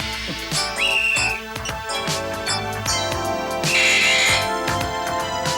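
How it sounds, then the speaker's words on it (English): Two shrill blasts from a loud party whistle used as a fire signal, one early and one later, sound over a busy, clattering background of music and movement. "I had some real loud whistles at my last birthday party."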